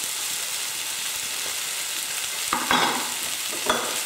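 Spices frying in a pan and tossed for about a minute while making Indian spiced lamb or chicken with couscous: steady sizzling hiss throughout, with a few brief scraping clatters near the end as the pan contents are stirred.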